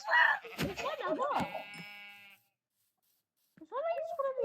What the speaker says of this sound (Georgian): ეს რა ცხვარია?